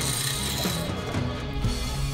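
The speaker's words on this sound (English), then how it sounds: "I totally forgot to pre-drill it for the stud locations," A drill bores holes in a welded steel frame for stud locations, giving a continuous loud grinding, rasping whir with slight rhythmic pulses as the bit works through the metal.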